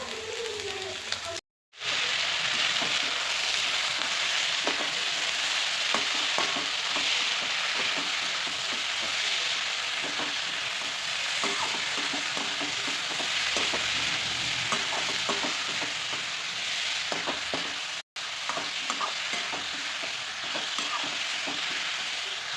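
Potatoes and peas sizzling loudly with onions in a frying pan, a dense steady crackle with occasional stirring scrapes running almost unbroken, with two brief cuts to silence.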